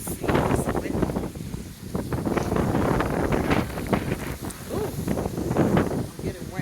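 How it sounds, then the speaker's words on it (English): Strong wind gusts buffeting the microphone on an outdoor balcony, a steady loud rumbling roar with surging bursts throughout, while a person talks over it. "It's very windy out here."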